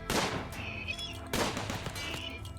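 Gunfire in the video game Rimworld, two sharp burst volleys about a second apart, each followed by a short ringing tail, loud and close with no talk.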